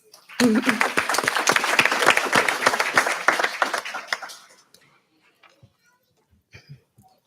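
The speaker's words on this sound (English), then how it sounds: "I would like to give all our graduates a round of applause" Graduates at an HSED/GED graduation ceremony at Moraine Park Technical College receive a loud burst of audience applause lasting about four seconds, fading into near silence with a few scattered faint claps and noises.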